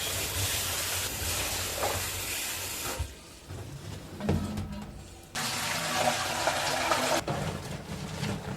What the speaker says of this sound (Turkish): Ben bezelyeyi hazırlamaya başlamadan önce mutlaka güzelce yıkıyorum.